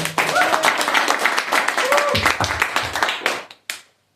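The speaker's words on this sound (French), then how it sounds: "On peut l'applaudir encore une fois." A TV studio audience claps loudly and continuously for about three seconds, then the applause cuts off sharply, with a voice briefly heard over it.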